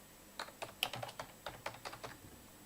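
Password typed on a computer keyboard: a run of about a dozen quick, light key clicks in an uneven rhythm, close and fairly quiet, with no voices.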